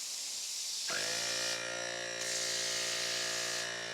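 An IK foamer with a precision foam nozzle fires close up. A short hiss leads into a sustained, loud, buzzy spray with a steady whining tone, and the spray pauses briefly midway before resuming.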